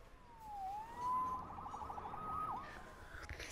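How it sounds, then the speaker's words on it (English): A police siren in a Spider-Man video game wails and sweeps up and down in pitch, faint and somewhat distant over a low rumbling background. "Saved by the siren."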